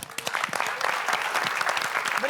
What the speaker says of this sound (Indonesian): Baik, kita beri tepuk tangan.